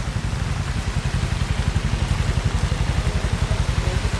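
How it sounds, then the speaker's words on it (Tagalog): Heavy rain from Typhoon Basyang pours down as a dense, loud, unbroken hiss, with a steady rhythmic low throbbing running beneath it throughout. "Grabe ka kusog ang ulan."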